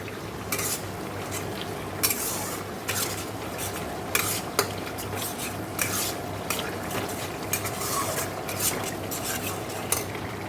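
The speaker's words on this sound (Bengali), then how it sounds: "এখানে দেখো মশলা কষাচ্ছি" Spice paste is stir-fried in a pan for a meat dish, a soft sizzle under repeated sharp scrapes and clinks of a metal spoon against the pan, fairly close and steady.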